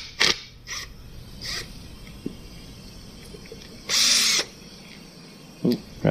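A power tool loosens a nut on an engine during a camshaft install, heard as a few short close bursts and one longer whirring run, fairly loud over a quiet workshop background.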